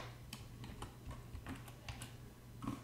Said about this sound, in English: gotta use my keyboard